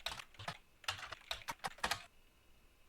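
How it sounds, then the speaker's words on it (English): Fingers tapping on a computer keyboard while playing The Roottrees Are Dead, a quick close burst of clicky keystrokes for about two seconds, then quiet. "what if we just type in both words?"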